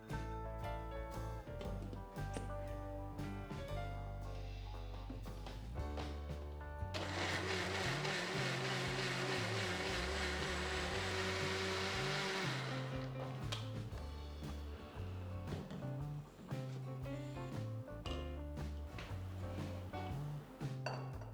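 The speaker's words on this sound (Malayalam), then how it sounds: "ഈ സൈഡ്സ് എല്ലാം വടിച്ച ശേഷം വീണ്ടും ഒന്നുകൂടെ അരയ്ക്കണം." A mixer grinder blends rice batter for neer dosa with a loud, steady whir lasting about five seconds. Clinking of the jar and utensils comes before and after it.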